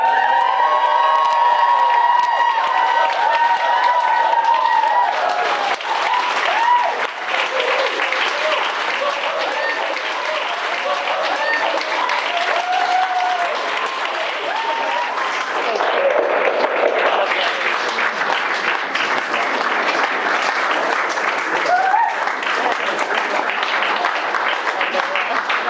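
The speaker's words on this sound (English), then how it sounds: "may you be upstanding and whoop and cheer for Mr. and Mrs." Wedding ceremony guests burst into sustained applause with cheering and whoops for the newlyweds, a loud, full crowd roar lasting the whole stretch, with children's shouts and scattered calls rising over the clapping.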